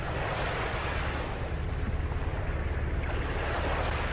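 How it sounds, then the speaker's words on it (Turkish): A steady, dense wash of rolling surf in the video game Euro Truck Simulator 2, like sea waves breaking continuously, with no voices. "Bu ne lan deniz sesi geliyor."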